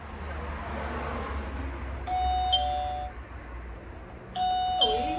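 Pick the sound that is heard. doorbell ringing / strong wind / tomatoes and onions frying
doorbell ringing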